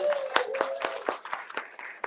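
A modest crowd at a ribbon-cutting celebration claps in scattered, distinct hand strikes, fairly close and moderately loud, with a faint voice underneath.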